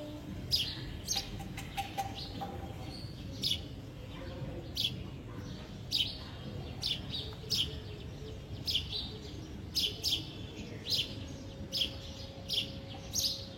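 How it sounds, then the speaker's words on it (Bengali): A sparrow at a bedroom window at dawn gives short, bright chirps in irregular bursts, fairly close, over a low steady background hum. "আর ইনি হচ্ছেন চড়ুই পাখি, এটা আমারই জানলায় একবার ঢুকছে একবার বেরোচ্ছে, কিচিরমিচির করছে"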